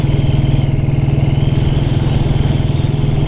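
Loud, close, steady thumping of a 1929 Ariel motorcycle engine ridden along country lanes, an even low pulse holding at a constant pace with a faint whistle of wind over it.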